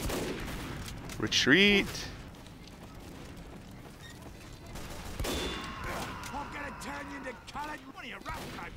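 Video game gunfire crackles in repeated bursts across the whole stretch, near and steady, while a voice shouts over it and other game sounds mix in.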